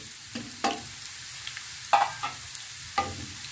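Light-brown garlic and onion sizzle softly in a hot pan while a utensil scrapes and stirs now and then, making scattered light clatters.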